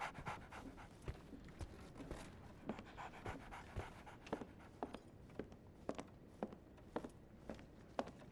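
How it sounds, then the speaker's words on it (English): A dog pants steadily in the video game Sherlock Holmes The Awakened, quick soft breaths repeating close by, with faint footstep-like ticks and no talk. "So, Barnes has a dog now."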